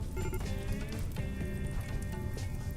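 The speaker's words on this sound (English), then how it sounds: "Is that rain now?" Rain patters steadily in RimWorld, a dense, even hiss of drops with faint tonal game music underneath, continuous and fairly quiet throughout.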